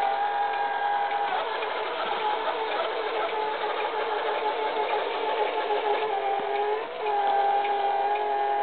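A small robot's single drive motor whirs steadily as it runs a square pattern across a rug, a constant mid-pitched mechanical hum with a brief dip near the end, fairly close and with no talking.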